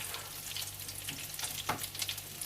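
Potato and chicken kebabs frying in a pan over a flame, giving a steady, soft oil sizzle at close range with faint crackles and no talking.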